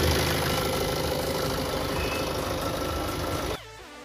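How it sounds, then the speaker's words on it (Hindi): A Tata Hexa's 2.2-litre Varicor 400 DOHC CRDI turbocharged BS4 diesel engine idles with a steady, even rumble at close range, then cuts off abruptly near the end. "And here is engine sound."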